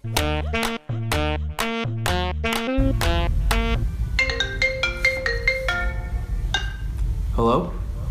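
A melodic phone ringtone plays loudly as a run of bright, repeated chiming notes, first in short staccato bursts and then as a busier tune.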